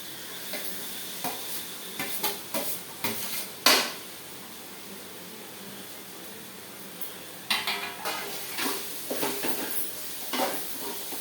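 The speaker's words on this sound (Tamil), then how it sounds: "இப்போ இது வதங்கிடுங்க. அது கூடவே இந்த கேரட்டும் குடமிளகாவும் போட்டுக்கலாங்க." Vegetables with carrot and capsicum sautéing in a pan for pasta, a soft background sizzle broken by bursts of stirring and utensil clatter against the pan, with no voices.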